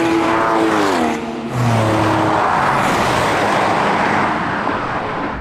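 A Porsche GT3 Touring laps a race track, its engine loud and close with a rising, falling tone as the throttle is modulated through bends, a brief dip then steady high-revving drone.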